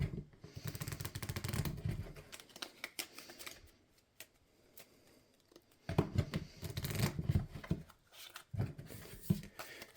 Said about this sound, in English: looks like we're going to be able to shuffle our deck again